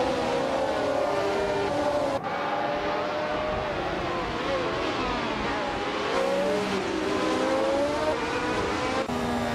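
Race cars, including a 1975 McLaren M23, roar around NOLA Motorsports Park in a continuous loud blur of engines, pitches rising and falling as they pass, with brief cuts in the sound.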